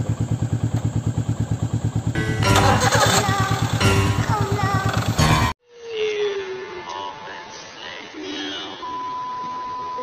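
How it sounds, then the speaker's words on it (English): A Hyundai i10 engine, just fitted with a new K&N air filter, cranks in rapid pulses and then catches and revs in the engine bay before cutting off abruptly, followed by quieter room noise and faint beeps. "So now I am gonna turn on the engine."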